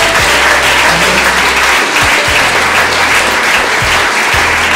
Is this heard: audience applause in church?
yes